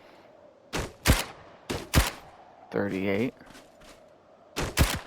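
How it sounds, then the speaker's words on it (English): Fabricated Submachine Gun, a P90-style weapon using submachine gun bullets in an ARK mod, firing in short sharp bursts of two or three shots spaced apart, with a brief voice in between. "And then we have the Fabricated Submachine Gun. This one uses submachine gun bullets as well."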